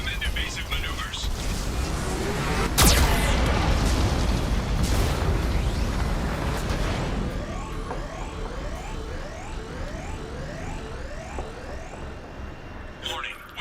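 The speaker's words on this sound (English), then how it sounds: "Warning, Geth cannon is locking on our location." Geth cannon blasts in the video game Mass Effect 2 boom and rumble heavily, with a sharp burst near the start, under game sound effects, a synthetic warning voice, and talking throughout.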